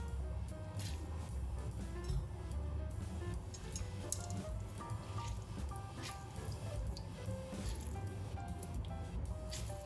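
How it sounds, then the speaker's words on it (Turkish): Grated potatoes squeezed by hand to press out excess water for Cypriot meatballs, soft wet squishing and dripping sounds, continuous and fairly faint, with background music. "Fazla suyunu elimle iyice sıkıyorum."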